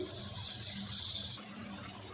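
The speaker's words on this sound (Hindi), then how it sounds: "अब 1 कप पानी का डाल देंगे।" A cup of water is poured into a spiced masala curry base in the pan, giving a soft splashing and sizzling hiss for over a second before it settles into a quieter simmer.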